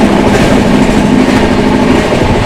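From inside the 12445 Uttar Sampark Kranti express, running at about 130 km/h from Delhi toward Katra and overtaking the Jammu Mail near Gannaur, a loud, constant rumble of rolling wheels and carriage noise fills the air close by.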